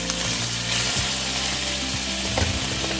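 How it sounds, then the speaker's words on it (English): Beans sauté in a hot pan with a loud, steady sizzle, broken by the scrape and clatter of a spatula stirring them around. "We're going to saute these around, put a lid on it."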